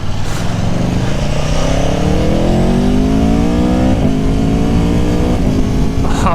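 A 2019 Aprilia Tuono Factory motorcycle engine revs hard and climbs steadily in pitch as it accelerates, loud and close, with a brief shift partway through and no talking.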